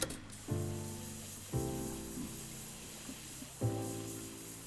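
A spray-can painting tool in the game Passpartout 2: The Lost Artist lets out three separate hissing bursts, each opening with a sharp buzzy onset before trailing off, over a quiet steady background.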